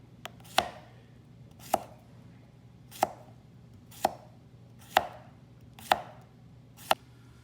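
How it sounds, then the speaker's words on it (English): A knife slices vegetables for fridge pickles on a cutting board, seven crisp, separate chops landing at a slow, steady pace, close and clear against a quiet room with no talking. "now I'll start cutting them to slices"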